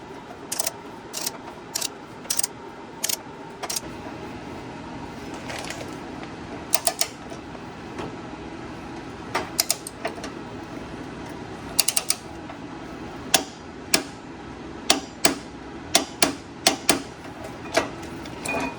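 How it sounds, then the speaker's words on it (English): A torque wrench ratchets as it tightens the flywheel bolts on a VW Beetle during a flywheel and clutch install. The crisp ratcheting clicks come in short bursts, near and distinct over a quiet workshop background, with no talking. "I'm gonna torque this to 28 foot-pounds"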